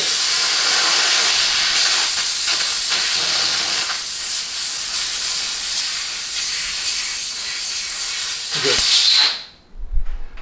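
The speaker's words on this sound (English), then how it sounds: "if you don't hear hissing when this comes loose, there's a problem" Nitrogen escapes from an unscrewed fitting as a strong, continuous hiss close by. It holds steady for about nine seconds, then cuts off abruptly, followed by a few faint handling sounds.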